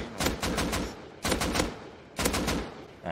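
Rapid automatic gunfire in the survival game Rust, three loud bursts of several quick shots each, separated by short pauses, with no talking.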